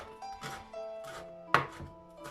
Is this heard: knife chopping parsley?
yes